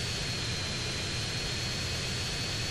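A Hydra jet in GTA San Andreas roars with a steady, loud engine rumble and hiss that holds unbroken throughout, with no talking.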